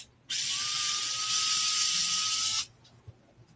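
A power screwdriver whirs steadily for about two seconds while backing screws out of an RC truck, with a sharp start and stop and a quiet room afterward.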